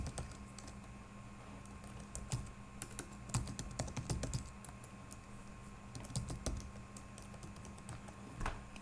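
Continuous typing on a computer keyboard while entering an email and password during a website sign-up, with quick irregular key clicks and occasional louder bursts of keystrokes over a faint steady hum.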